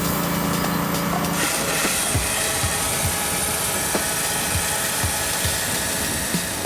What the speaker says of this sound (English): only diamond-tipped chainsaws will cut through them